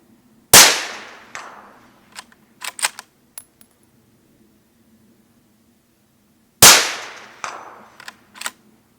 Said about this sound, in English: I'll hide that away somewhere and shoot with just the brake for a bit of fun maybe